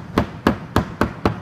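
A small hammer taps a concrete sample to split it, five sharp knocks at an even, unhurried rhythm, close and clear with nothing else heard.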